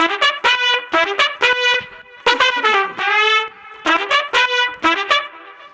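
A trumpet-like horn melody, layered four times, plays in an Afro House track produced in Ableton: bright, punchy stabs in a rhythmic phrase with a couple of longer held notes, loud and clean with no voices.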